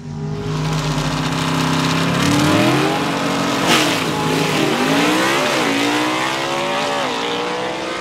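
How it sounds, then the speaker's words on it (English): A 1958 Delray gasser drag car at a Southeast Gassers race in Aiken, NC, roars loud and close, its engine note climbing steadily as it accelerates down the strip, with no voices over it. "Great look, great sound as the 58 Delray moves on"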